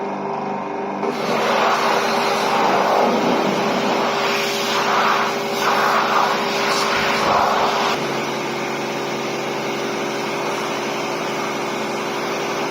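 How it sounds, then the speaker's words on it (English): Pressure jet wash sprays under the bonnet of a BMW E46 to clear moss and grime, a loud, steady hissing roar that starts abruptly and holds for several seconds with slight surges, no talking. "We have a jet wash and we're not afraid to use it."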